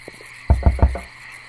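Three deep frog croaks in the video game Loveland, in quick succession, close and fairly loud, over a faint steady background hum.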